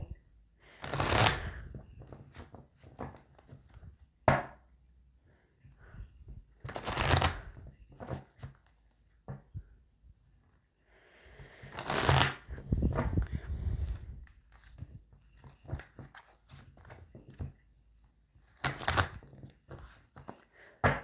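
Oracle cards shuffled for a reading, a series of loud crisp riffling bursts separated by quieter handling and soft rustling, close and with no one talking.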